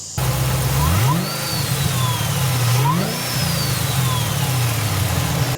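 A 2014 HSV VF GTS engine runs loud and close, with a deep steady idle, a couple of rising revs and a whining supercharger that climbs and falls.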